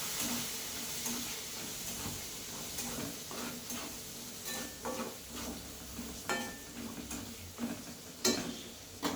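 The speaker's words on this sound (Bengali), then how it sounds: "আর শুকনো লঙ্কা তেলের মধ্যে আমি ফোড়নগুলোকে ভালো করে দিয়ে নিচ্ছি" Whole spices, bay leaf and dried red chilli fry in hot oil for a lentil khichuri, giving a faint, steady sizzle broken by light clicks and taps of stirring against the pan.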